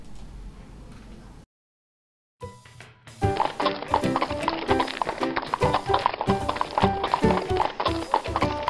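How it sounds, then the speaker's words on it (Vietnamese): A blind horse gallops in a cartoon, its hooves pounding in a fast, loud, rhythmic clatter after a brief silence, under layered sound effects. "Con ngựa mù."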